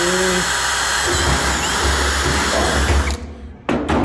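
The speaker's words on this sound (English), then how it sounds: "we can drill this one to 1/4 and drill underneath to take the rivet nut" A power drill runs loudly and steadily for about three seconds, then cuts out, spins briefly again, and stops, drilling a 1/4-inch hole for a rivet nut in a custom truck visor.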